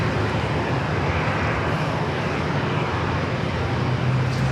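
An airliner at San Diego airport takes off from runway 27, a loud, broad, steady engine roar filling the scene without letup.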